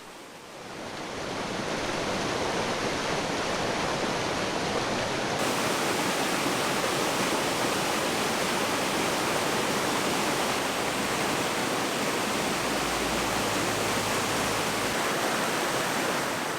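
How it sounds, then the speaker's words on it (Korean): The Donggang river flowing through a valley in Jeongseon, a steady, dense, loud rush of water that fills the whole clip without pause, with no voices. "동강의 물줄기는 계곡 사이사이 기운을 뻗어 물을 흐르게 합니다"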